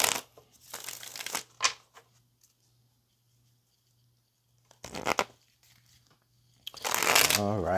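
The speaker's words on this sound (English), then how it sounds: "Let's get one more shuffle." Tarot cards riffled and shuffled by hand in short crisp papery bursts, one near the start and another mid-way, with quiet gaps between, and a voice joining at the end.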